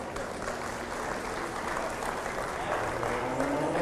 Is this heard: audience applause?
yes